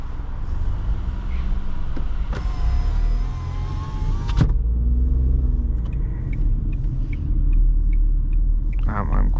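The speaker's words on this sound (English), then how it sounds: "I hear the engine from the car, but I cannot hear too much noise from outside" A car engine hums as a low, steady rumble heard from inside a quiet cabin while driving. A few brief clicks and higher tones come through, and outside noise stays muted.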